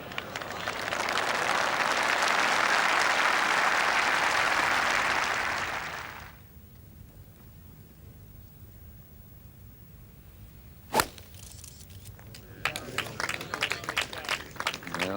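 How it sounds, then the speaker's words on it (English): A golf gallery at The Open at St Andrews in 1984 applauds a shot with loud, dense clapping for about six seconds that fades out. A commentator then speaks over quiet crowd murmur. "Crowd is pleased with it"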